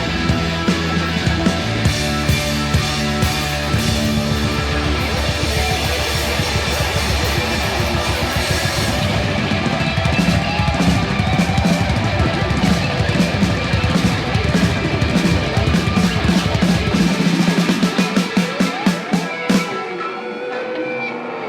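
Dense, loud live rock band recording of a band playing a song, full drums, guitars and vocals blended throughout before the sound cuts out abruptly near the end.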